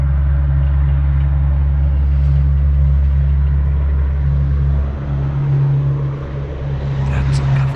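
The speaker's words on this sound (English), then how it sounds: "That's a government truck." A government truck passing close by gives a loud, steady low-pitched engine rumble with a heavy drone that holds for several seconds and eases slightly near the end.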